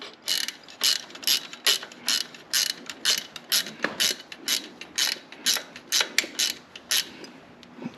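A hand wrench ratcheting on the shift lever of a Harley Davidson Street Glide, roughly fifteen quick, close, clicky ratchet strokes in a steady rhythm with short gaps between them.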